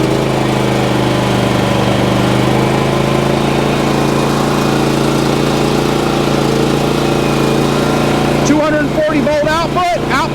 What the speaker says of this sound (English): So when I start it up, I got full choke.